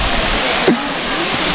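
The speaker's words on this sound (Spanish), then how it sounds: "Podemos ver ese salto, esa caída de agua que venimos siguiendo en un recorrido de senderismo." Waterfall at Cascada del Beso in Honey, Puebla, seen from a hiking trail: a steady, broad rush of falling water that fills the whole clip at an even, loud level, with no talk over it.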